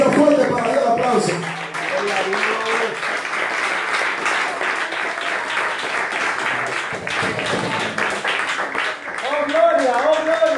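Church congregation applauding during a Spanish-language evangelical service in Ecuador, a steady dense wash of clapping that carries on through the clip, mixed with singing and voices throughout.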